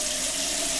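Hot water runs steadily from a tap during a shaving preparation, a brief, even rushing flow heard at close range without any voices.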